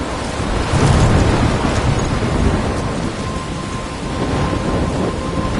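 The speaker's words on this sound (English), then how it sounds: "I'm trapped in a storm?" Thunderstorm in the game Life is Strange: steady, dense rain with a continuous low rumble of thunder swelling early, holding loud and unbroken throughout, with no voices.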